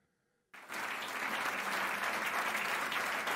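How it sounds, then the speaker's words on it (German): Audience applause bursts in abruptly after a quiet moment and holds as a dense, even roar of many hands clapping, steady and unbroken, with no voices on top. "Hey, die klatschen ja wirklich eine Minute."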